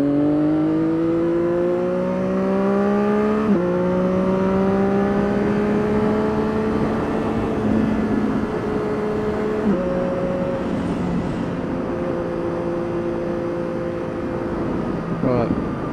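A car accelerates hard through the gears in a tunnel, its engine note climbing in long rising sweeps, dropping at each shift, then climbing again, with a driver talking over it.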